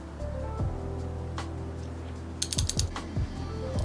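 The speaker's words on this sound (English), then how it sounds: "I'm going to be using a torque wrench. I'm going to be torquing this down to 18 foot-pound." A torque wrench tightening a spark plug on an Acura RSX Type S, heard as a soft ratcheting rattle building to a quick cluster of sharp clicks near the end, close and quiet, with no voices.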